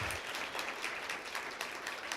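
An audience at a university lecture course applauds, a dense continuous patter of clapping hands, fairly faint and distant, with no talk.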